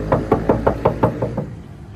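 Eight steady knuckle raps on the thin metal rear door of a 1997 Daihatsu Taft Rocky 4WD, loud and close, with an even rhythm that trails off slightly at the end.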